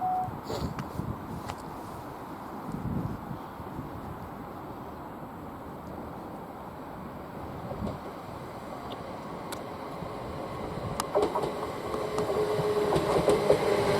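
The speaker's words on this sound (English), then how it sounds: "now arriving in is a pair of 387s" Two Class 387 electric units pull into Didcot Parkway, a steady low rumble and rolling wheel noise rising slightly toward the end, with a faint high whine and a few sharp clicks over the top.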